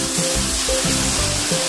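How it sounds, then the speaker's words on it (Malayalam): Coconut milk pours onto melted jaggery in a hot pan for banana payasam, making a steady, loud hissing sizzle with a gentle bubbling pulse beneath it throughout. "നമുക്ക് അതിൻ്റെ അടുത്തേക്ക് ഒന്നാം പാൽ രണ്ടാം പാൽ ചേർക്കാം."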